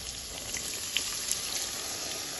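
Rinse water from a bowl of coriander-coated rohu fish hits hot oil, giving a steady, dense sizzle and crackle with small pops throughout.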